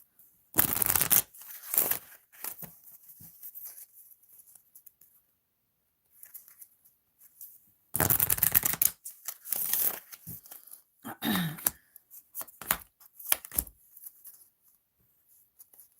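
Tarot cards shuffled by hand, with several crisp riffling bursts separated by quiet pauses, close and clear.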